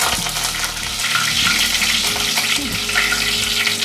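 Curry leaves crackle and sizzle loudly in hot oil with fennel seeds for prawn thokku, a steady close frying hiss with stirring throughout.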